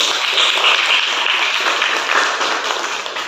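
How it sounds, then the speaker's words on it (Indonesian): An audience of students gives a steady round of applause, dense clapping at an even level throughout that fades slightly at the end. "Kasih aplaus semuanya"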